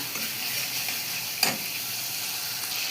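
Spice paste (masala) fries in oil for Bengali aloo dum, a steady close sizzle and hiss with a single brief clink partway through, with no voices.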